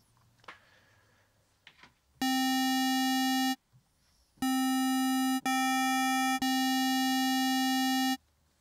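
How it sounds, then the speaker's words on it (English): Deluge synthesizer playing ring-modulated notes with the first oscillator transposed up an octave: a steady low tone topped by a bright, piercing high-pitched tone, sounded in several sustained bursts with brief gaps, loud and alone. "we're getting a low tone, but there's also quite a very high pitch tone going on above it"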